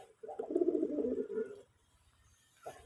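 A native domestic pigeon gives one close, soft throaty coo lasting over a second, followed by quiet and a brief faint sound near the end.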